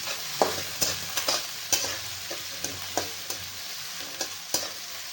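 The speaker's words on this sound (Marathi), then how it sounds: "कांद्याला आपल्याला चांगलं परतून घ्यायची" Onion sautés in oil in a pan, a soft steady sizzle punctuated by a dozen or so sharp scraping strokes of a spatula at an uneven rhythm, close and without talk.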